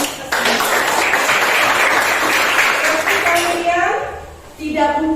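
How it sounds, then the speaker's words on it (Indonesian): Schoolchildren in a classroom clap together in a loud, busy burst lasting a few seconds, then a voice speaks over the fading applause. "Ayo, beri tepuk tangan"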